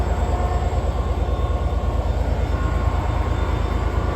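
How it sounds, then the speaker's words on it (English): Avanti West Coast train arriving at Carlisle station from London Euston, a loud, close, continuous low rumble and drone with a steady pulsing throb, no voices. "Arriving in now is Avanti West Coast service from London Euston."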